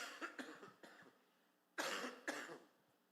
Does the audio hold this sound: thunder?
no